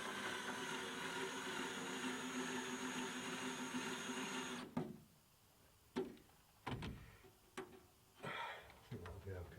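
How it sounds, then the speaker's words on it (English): A standby pilot boat engine drones as a steady, rumbling hum for nearly five seconds, then drops away, leaving scattered knocks and clatters nearby. "that noise, if you can hear it, I'm sure you can, is the standby pilot boat"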